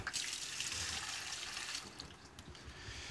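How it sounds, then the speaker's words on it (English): Water pours steadily into a bowl to start a mung bean pancake batter, a continuous close splashing gush that runs unbroken throughout, with no voices. "I'm going to put some water in first to get it started."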